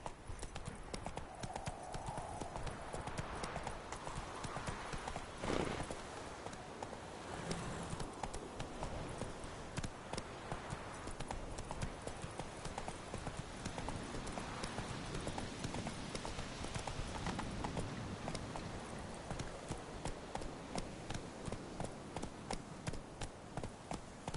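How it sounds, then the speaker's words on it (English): Horse hooves galloping in The Witcher 3, a continuous, rapid rhythmic clip-clop of hoofbeats throughout, close and prominent over a dense game soundscape with faint background voice. "Whoa there, Roach"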